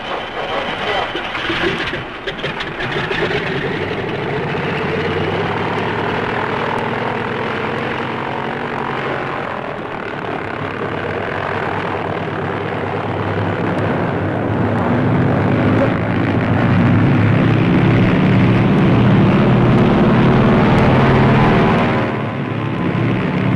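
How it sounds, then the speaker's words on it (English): A propeller tow plane's engine drones as it takes off, pulling a military cargo glider on a nylon tow rope. The continuous roar swells and holds for over twenty seconds before fading slightly at the end. "The nylon rope is prepared for hooking the glider behind the tow ship. Ready for the takeoff."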